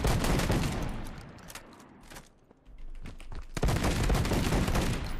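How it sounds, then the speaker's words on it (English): A drum shotgun fires in Deadrop, shooting at a shipping hub: dense, loud clusters of blasts at the start, a short lull with a few isolated shots, then another heavy volley near the end. "I'm using a drum shotgun"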